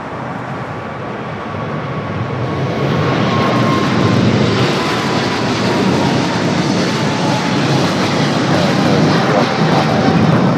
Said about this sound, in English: The 25 at left has the China Southern Cargo 777. Now starting to roll.